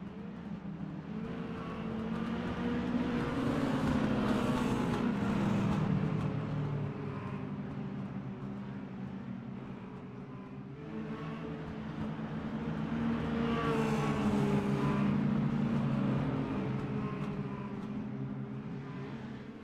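Mini stock race cars roll off pit road behind a pace car at a season-opening race, a steady blended engine drone that swells and fades as the group passes, heard from a distance with no voices.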